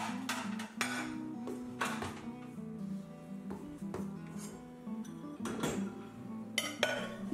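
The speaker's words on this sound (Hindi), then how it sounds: "जब भी मैं डिशवॉशर लोड करती हूँ बर्तनों को सबसे पहले स्क्रेप ऑफ करती हूँ और रिंस करती हूँ" Breakfast dishes scraped and rinsed in a home kitchen: sharp clinks and knocks of plates and cutlery over a steady hum of running water, with faint background tones.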